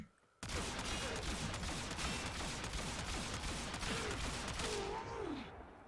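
Rapid pistol gunfire in a video game, about a dozen shots fired in a fast, steady volley against high-level enemies, loud and continuous for several seconds before stopping.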